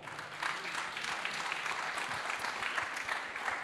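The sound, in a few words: audience applause for a speaker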